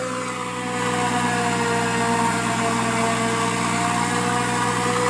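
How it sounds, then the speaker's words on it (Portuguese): A tractor engine runs steadily in low gear under load, hauling a full trailer of forage sorghum at slow speed, a constant close drone with a steady hum and no pauses. "O trator tem que estar reduzido e ainda tá tendo que tocar na embreagem para segurar."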